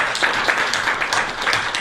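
People in a lecture audience clap together, a short burst of close, even handclaps in quick rhythm with no speech.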